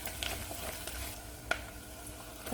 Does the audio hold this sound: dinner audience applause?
no